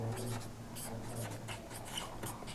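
A pen scratching out a maths solution on paper, soft irregular strokes close by, faint and intermittent under a speaking voice.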